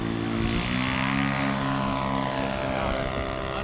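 A propeller-driven scale model airplane takes off with a steady, loud, buzzing engine drone whose pitch slowly rises as it powers up, close by and continuous, with no talk.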